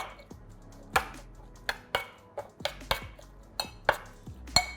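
Hibiscus pickle being mixed in a bowl, with irregular clinks and knocks of a utensil against the bowl, close and fairly quiet, and no voices.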